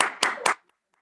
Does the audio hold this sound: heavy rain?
no